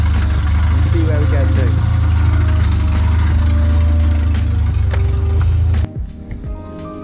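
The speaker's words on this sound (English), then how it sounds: "I'm going to let it run for a second." A Renault R8 Proto's swapped 1397cc C2J engine idles with a steady low rumble and faint knocking, then cuts off abruptly near the end, leaving quiet rattles.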